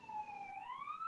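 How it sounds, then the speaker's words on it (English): A police siren wails steadily in the background, its tone sliding slowly downward and then rising again, moderately faint and continuous with no other sound competing. "But there is a siren in the background"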